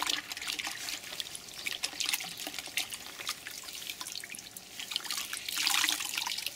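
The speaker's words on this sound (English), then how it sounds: "give them a good squeeze out so that the sponge is nearly dry" Water trickles and drips as a sponge and cloth are squeezed out, with a continuous wet splashing that swells louder toward the end; no one speaks.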